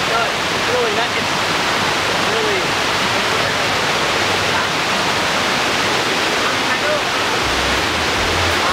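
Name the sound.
natural waterfall rushing water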